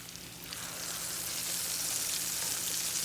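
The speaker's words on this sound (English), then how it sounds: "Alright, fry this side" Chicken fried steak frying in a pan, a steady dense hiss of sizzling oil that swells slightly and runs unbroken, close and alone.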